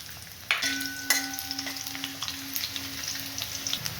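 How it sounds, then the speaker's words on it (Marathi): Peeled garlic with a bay leaf hits hot oil in a pan, setting off a loud, steady sizzle and fry with small spits and a stirring clatter, close by and with no talk. "मी आता ह्यामध्ये टाकत आहे मी लसूण जो आपण सोलून घेतलेला आहे"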